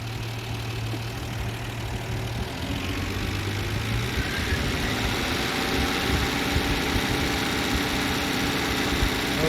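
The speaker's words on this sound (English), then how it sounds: "we have to rev the engine up until the mechanical advance is fully advanced." A car engine, held at raised revs while its ignition timing's mechanical advance is checked, drones steadily and close up with a shifting pitch early on, then settles into a constant, even hum with no talk.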